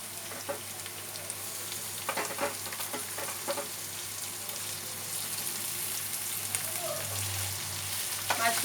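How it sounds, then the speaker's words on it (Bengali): Prawns stir-frying with garlic in a pan give a steady close sizzle and hiss, broken by scattered clicks and scrapes of stirring, with no voices. "মাছগুলো দিয়ে অল্প সময় এগুলো একটু নাড়াচাড়া করে ভেজে নিতে হবে।"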